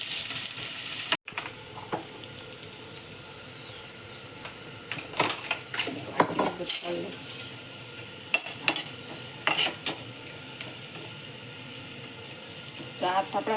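Vegetables for noodles cook in a pan with a steady sizzle, punctuated by occasional scraping stirs and clinks, fairly close and continuous.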